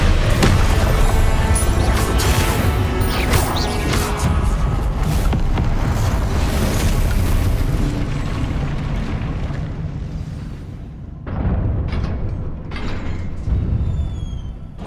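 Spell explosions cast in the video game Hogwarts Legacy: loud, rumbling blasts roll on nearly without a break, thin out briefly, then a fresh burst of booms hits.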